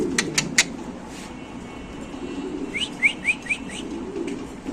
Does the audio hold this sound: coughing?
no